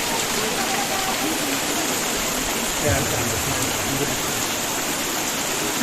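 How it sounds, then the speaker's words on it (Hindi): Panchpula waterfall, with water tumbling down from the hillside, roars as a steady, loud, broadband rush that stays close and unbroken throughout. "ऊपर पहाड़ी से आता हुआ पानी और यहाँ है वाटरफॉल"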